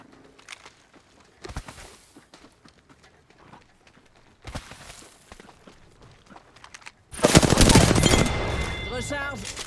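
Video game gunfire crackles in short bursts of shots with quieter gaps between, then a loud sustained volley of fire and explosions at the end.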